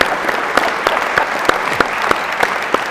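An indoor audience at a talk on dementia and rugby and football players applauds steadily, a close, even run of many hands clapping with regular accented claps, heard alone without speech.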